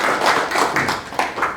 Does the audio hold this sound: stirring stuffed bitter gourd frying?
no